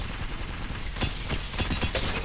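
Bursts of rapid gunfire from an L-Star energy gun in the Apex Legends video game, loud and close, with short volleys repeating over a dense continuous backdrop.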